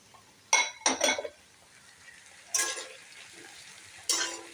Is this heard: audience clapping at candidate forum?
no